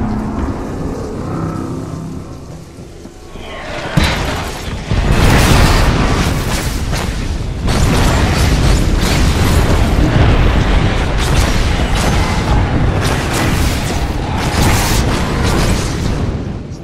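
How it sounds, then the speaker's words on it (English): Airstrike explosions boom in Apex Legends, with a sharp blast near four seconds followed by a long, loud roar of overlapping, rumbling detonations and crackling bursts. "It's signaling an airstrike."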